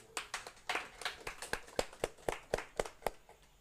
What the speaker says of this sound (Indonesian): Kita beri aplaus dulu untuk kita semua.